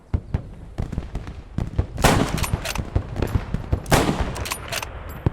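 Rapid video game gunfire from the western shooter Gunslinger, with sharp single shots and bursts of fast repeated cracks, some loud volleys close by, set against a steady background din.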